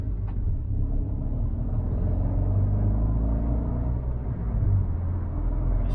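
A Fiat 500C TwinAir with the Dualogic automatic gearbox is on the move, heard from inside the cabin as a steady, loud low engine and road rumble.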